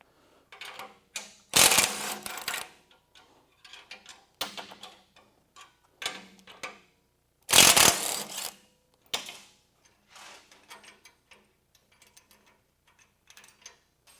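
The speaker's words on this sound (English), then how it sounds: "Now we're ready to unpack the package bolts." Lift bolts being unpacked from their package during a vehicle lift installation in a garage, giving close, irregular metallic clinks and rattles in short bursts, with two louder clattering spills as the bolts are tipped out.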